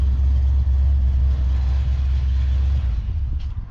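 Engine of an abandoned 1968 Plymouth Satellite pulled from a scrap pile, running steadily with a loud, deep low rumble that holds even for nearly four seconds before easing slightly at the end.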